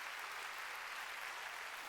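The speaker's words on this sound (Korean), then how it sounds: "박수 치려면 지금 말이야." A church congregation at a Sunday worship service claps in response to the pastor's prompt, producing a faint, even, continuous patter of many hands heard from a distance.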